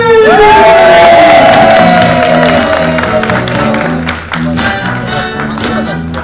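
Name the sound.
audience applause and cheering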